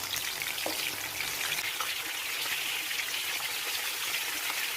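Marinated prawns for prawn 65 fry in hot oil in a pan, giving a steady, close, dense crackling sizzle with no voices and no break in the hiss.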